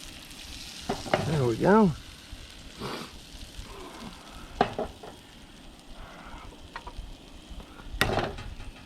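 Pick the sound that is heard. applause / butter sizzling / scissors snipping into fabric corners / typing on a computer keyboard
butter sizzling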